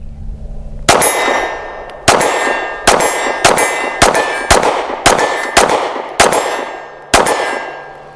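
A micro compact pistol fires about nine shots at steel targets, each sharp bang followed by a ringing metallic clang, spaced roughly a second apart outdoors, loud and with no talking.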